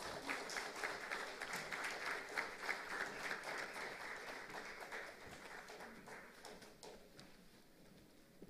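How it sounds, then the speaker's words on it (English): An audience at the Smile Innovation Summit 2022 claps in sustained, dense applause that eases off gradually toward the end. "And another round of applause, everybody,"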